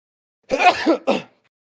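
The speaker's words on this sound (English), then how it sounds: "I'm sneezing all over the place." A single close, loud human sneeze in two bursts, a brief sharp release followed by a shorter second puff, in an otherwise silent room.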